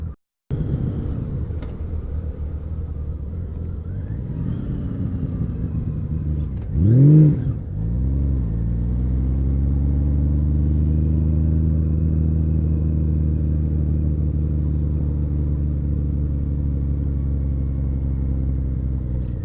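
A Honda Valkyrie motorcycle rolls slowly through a mall parking lot, its engine holding a steady, deep, close rumble with one brief swell of revving partway through, alone with no talking.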